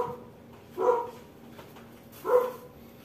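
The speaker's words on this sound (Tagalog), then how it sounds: "Maingay yung mga aso." Dogs bark twice outdoors near a laundry area, two separate barks spaced about a second and a half apart, moderately distant with no talk over them.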